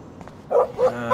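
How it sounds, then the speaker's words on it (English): A dog barks in the video game Life is Strange, near an RV outdoors; two short, close barks in quick succession over quiet game ambience, with faint sounds before them. "No barking."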